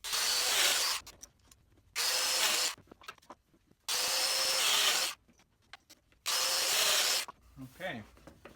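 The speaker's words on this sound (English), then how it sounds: "We've got the mortises cut on both sides." A Seneca Woodworking Domiplate cuts mortises in wood in four loud, close bursts of rough routing noise, each about a second long, separated by quieter handling sounds and a bit of low talk near the end.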